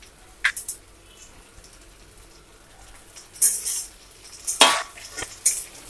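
Cluster beans are added to a pan of browned cumin and garlic, giving a few scattered clatters and stirring scrapes, with brief sizzle bursts and louder clanks toward the end, with no talk.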